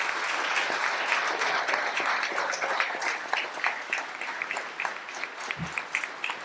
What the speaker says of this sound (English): please, just to stand up so we can applaud you even more for what you do every day